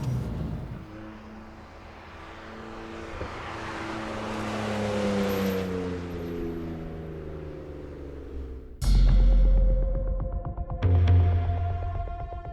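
A 2.2 million rand car driven on a race track at a South African motoring festival, its engine droning and rising in pitch through the gears, then a sudden louder roar near the end.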